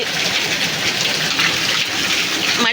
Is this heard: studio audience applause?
no